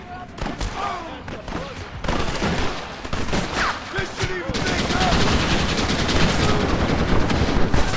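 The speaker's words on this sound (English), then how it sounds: "You man the Gatling gun" Sustained rapid gunfire from a Gatling gun in the Red Dead Redemption video game, dense and continuous over a battle din with scattered voices, growing heavier and steadier in the second half.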